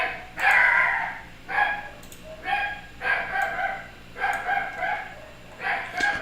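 A neighbor's dog barks repeatedly at moderate distance, a steady series of single barks about once a second over a constant low background hum.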